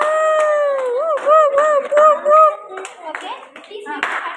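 Students get a round of applause, with clusters of hand claps breaking out among children's voices and excited chatter close by.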